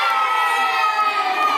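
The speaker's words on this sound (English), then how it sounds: "they shouted with joy." Summer campers cheer and shout with joy together at an archery range after a young camper's shooting, a steady, bright crowd roar with high children's voices that holds at full loudness for the whole stretch.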